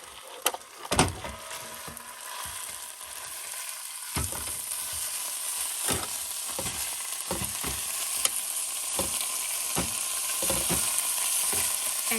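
Beef mince sizzles and spits steadily in a pot in a campervan kitchen, with a loud initial hiss as it hits the hot pan, then continuous frying crackle and occasional scraping stir knocks.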